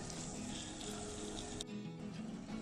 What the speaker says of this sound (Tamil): இப்போ தக்காளி நல்லா வதங்க விடுவோம்.